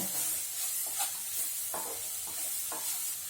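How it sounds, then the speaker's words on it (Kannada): Coconut burfi mixture with sugar being stirred in a pan over heat, producing several slow, soft scraping strokes over a steady sizzling hiss, close by with no talk. "ಸಕ್ಕರೆ ಹಾಕಿ ಚೆನ್ನಾಗಿ ಮಿಕ್ಸ್ ಮಾಡಬೇಕು."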